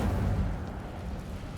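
Incendio fire spell cast in a Harry Potter video game: a dense, rumbling whoosh of flame that holds steady and loud for under two seconds without any voices.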